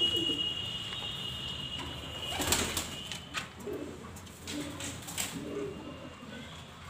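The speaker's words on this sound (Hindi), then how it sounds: "यहाँ पर कबूतर नहा के फ्रेश हो गए हैं।" Pigeons cooing softly inside a loft after bathing, repeated low throaty coos spread across several seconds with a brief flutter of wings, fairly quiet and close.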